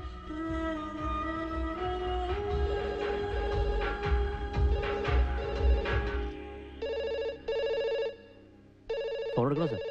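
A telephone rings in a Malayalam movie scene. Repeated electronic ring bursts, fairly loud, come in the second half over music and other scene sounds, and a pitch-bending tone closes the stretch.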